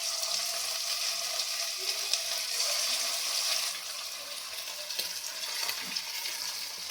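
Chicken pieces frying in hot oil in a kadai, a loud continuous sizzle with scattered sharp pops and crackles, close up with no talking.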